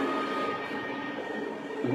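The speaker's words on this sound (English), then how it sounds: "Sorry about the train." A train passes nearby in an outdoor setting, a steady broadband rumble and rolling noise that holds at an even level throughout, with no speech over it.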